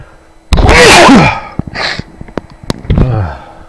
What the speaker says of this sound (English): I apologize if there's anyone listening to my sneezing.